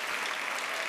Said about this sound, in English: please give a round of applause for my grandfather, Herb